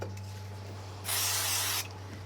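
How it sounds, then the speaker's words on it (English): A single short hiss of spray glue from a can onto the back of a card piece, lasting under a second, against a low steady hum. "A little bit of spray glue on the back."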